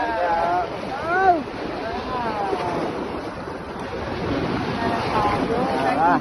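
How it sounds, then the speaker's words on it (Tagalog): Sea waves washing and surging near the shore, with wind buffeting the microphone while excited voices of children and adults talk over the surf. "Wow, alon, EJ!"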